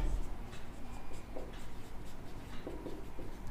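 Handwriting on paper while working a linear equation in two variables, soft continuous scratching strokes with a few slightly louder pen marks, faint and close.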